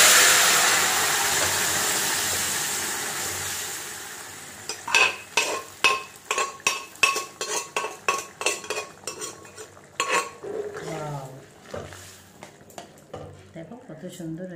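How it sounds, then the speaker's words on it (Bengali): Hot oil tempering (phoron) poured slowly into a pot of dalma vegetable stew, a loud broad sizzle bursting up at first, then fading under a series of sharp metal spoon clinks and scrapes against the pan as it is stirred. "এবার আমি এই ফোড়নটা এর মধ্যে আস্তে করে দিয়ে দিই"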